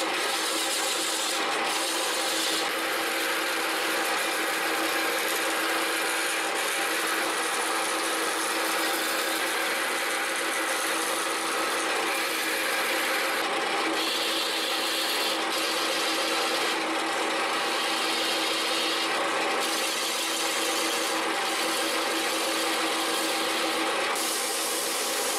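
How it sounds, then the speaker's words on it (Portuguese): Steady, continuous abrasive rasping of a wooden goblet with spiral grooves being sanded on a spinning lathe, with a constant motor hum underneath and brief pauses throughout. "estou lixando"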